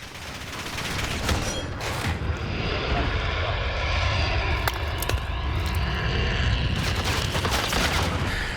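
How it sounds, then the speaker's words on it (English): A Harrier jet roars overhead in a Call of Duty match, a loud sustained engine rumble mixed with bursts of gunfire and sharp shots throughout. "They got a Harrier again."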